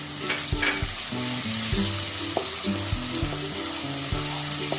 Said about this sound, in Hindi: अब हम इनको अच्छी तरह भूनेंगे।